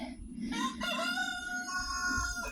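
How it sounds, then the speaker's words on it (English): A rooster crows loudly and clearly, a long drawn-out call with a rising then falling pitch, close by. "Jeez, I wish these roosters would shut up."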